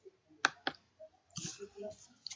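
Computer mouse clicks while formatting a spreadsheet: two crisp, close clicks in quick succession, then soft faint shuffling and small noises, with no voice.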